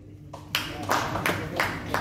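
A lone audience member at a mill workers' gathering in Sindhudurg claps a few times in uneven rhythm, the claps close and sharp with a voice in the background.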